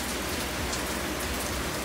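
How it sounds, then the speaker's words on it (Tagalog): Steady rain falls on a garden of plants, a dense even patter of drops on leaves and surfaces, continuous and close, with no voices. "ako ay naulanan na guys, hindi ako nagpayong."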